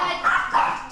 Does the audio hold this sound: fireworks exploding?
no